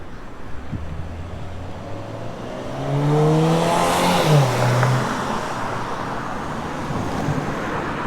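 Road traffic on a Dallas street, with one vehicle clearly approaching, sweeping past close by and fading away over a constant background roar of traffic.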